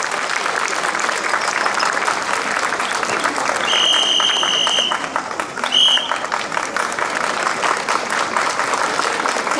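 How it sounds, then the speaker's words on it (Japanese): Sustained audience applause for a primary school's Inaba umbrella dance club after its performance at an outdoor dance festival, a dense steady wash of many hands clapping throughout, loud and close, with no talk over it. "では改めて宮ノ下小学校の皆さんに大きな拍手をお送りください。"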